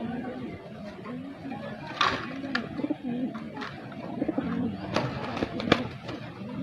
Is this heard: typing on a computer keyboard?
no